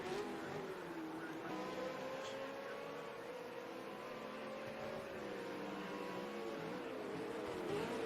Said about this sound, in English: Taipan's been solid through these first corners here at Ruapuna Park